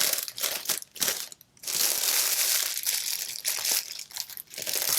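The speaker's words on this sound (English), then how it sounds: "I just used the roll of cellophane and started cutting it" Cellophane pulled from a roll and cut for a Christmas craft crinkles and crunches in close, dense bursts with short pauses, loud and bright with no talking.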